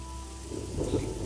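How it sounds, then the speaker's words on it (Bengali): Stormy wind and heavy rain make a low, dense rumble of gusts and pattering, swelling slightly toward the end of a short stretch. "এইরকম ঝড়ো হাওয়া বৃষ্টি আমি এর আগে কখনোই দেখিনি।"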